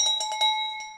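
Notification bell sound effect, a quick series of bright metallic rings with sustained tones, four rapid strikes and a final softer one, clear and alone.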